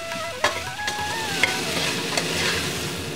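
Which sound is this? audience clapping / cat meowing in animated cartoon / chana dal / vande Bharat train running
chana dal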